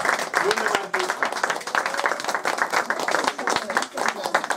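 Audience applause for young performers at an autumn concert, dense steady clapping from a crowd that fills the whole stretch, with some voices mixed in beneath.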